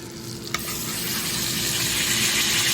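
Venison seared in a pan with garlic gives off a loud, continuous close sizzle that swells steadily after one brief clank at the start.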